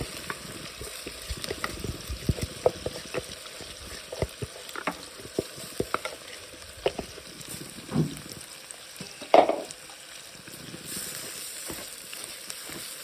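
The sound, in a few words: basmati-style rice being stirred and fried in oil and ghee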